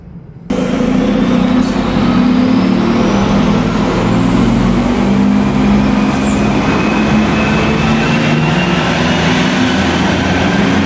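Inside an AGILIS RegioShuttle regional diesel railcar pulling into Lichtenfels station, a loud, steady rumble of engine and wheels on rails fills the cabin, with faint whining tones sliding up above it.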